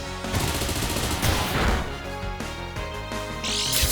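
Bullet Punch attack effect from the video game Pokémon Scarlet: a loud flurry of sharp, gunfire-like impacts and crashing hits, followed by a bright burst at the end.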